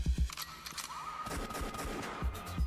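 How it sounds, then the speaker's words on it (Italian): Bursts of gunfire in the music of the stealth video game Party Hard 2: a few sharp, loud shots at the start and more thumping hits later over dense, busy background music. "comunque gli spari erano dalla musica"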